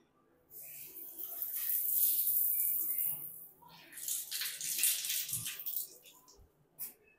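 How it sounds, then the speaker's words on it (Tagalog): Shower running in a studio apartment bathroom during a unit inspection, a steady hiss of spraying water that rises and falls over several seconds, with faint voices in the background. "So, shower."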